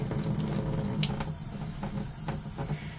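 Warm water runs steadily from a tap over an HP ENVY printer printhead being rinsed, a continuous close splashing rush with a few small drips and knocks, alone without talk.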